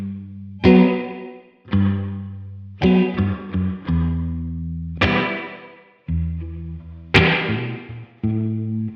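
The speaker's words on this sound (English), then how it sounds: "And I just did a simple 1-6-2-5 progression that sounds like this." Electric guitar run through a Tone King Imperial amp simulation plays a 1-6-2-5 chord progression in a spring-reverb setting, sounding as a series of strummed chords with sustained decays, alone and up close.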